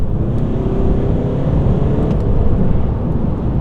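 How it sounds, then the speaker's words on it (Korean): Volkswagen Passat GT diesel engine pulling hard on kick-down, a loud, dense, continuous roar with a steady low drone and road noise, heard without any voices. "좀 급격하게 가속을 할 때, 그러니까 이제 킥 다운을 했을 때 지금 한번 해보겠습니다"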